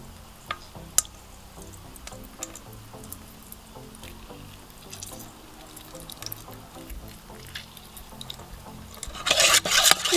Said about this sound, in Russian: И добавляем сок лимона.